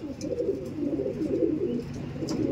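A line-bred pigeon, a blue-checkered Arshad line bird, coos in a soft repeated rolling murmur, fairly close and continuous, with faint background noise and no talking.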